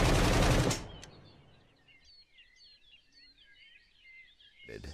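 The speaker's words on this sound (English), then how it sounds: "since the player holds the weapon firmly and aims down the sight, the recoil is reduced and shot groupings are tighter" Gunfire from an aimed weapon in the open-world prison game SCUM: a loud, dense burst of rapid shots at the start, then ambient bird chirps and quiet surroundings, with a short sharp sound near the end.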